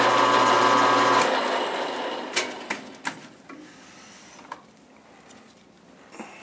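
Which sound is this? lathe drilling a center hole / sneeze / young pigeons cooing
lathe drilling a center hole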